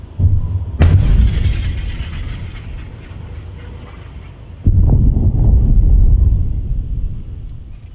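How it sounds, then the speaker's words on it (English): Two heavy blasts of frontline artillery or explosions in the trenches of the war in Ukraine, each a sudden loud boom trailing into a long rumbling decay over steady wind-like background noise. "The rattle of machine guns, explosions."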